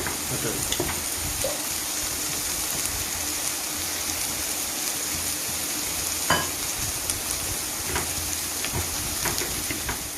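Brinjal curry cooking in a covered pan gives a steady, moderately loud sizzle and bubbling hiss with occasional soft clicks and no voices.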